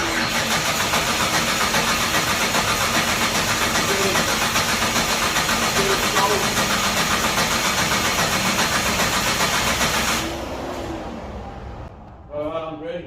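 A Barra-swapped Toyota JZX100 cranks and runs in a loud, steady drone for about ten seconds, then cuts off and drops to quieter rumbling before a few brief knocks near the end.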